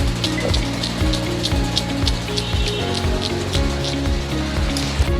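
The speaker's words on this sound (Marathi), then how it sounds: "हे आहे वातावरण पावसाचं." Monsoon rain falls steadily around a stopped vehicle on a trip to Malshej, a dense continuous patter with a repeating low rhythmic thump underneath, no voices.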